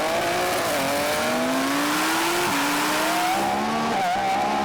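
A Lamborghini Revuelto accelerates hard from about 40 mph in second gear in a rolling drag race, its engine roaring loud and close with rising pitch sweeps and brief dips at each gear change.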